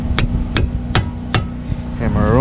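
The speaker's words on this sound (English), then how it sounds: "hammer her on" A hammer strikes the lower control arm of a Chevrolet Impala to break the ball joint free, four loud metallic blows at an even pace, followed by a brief voice.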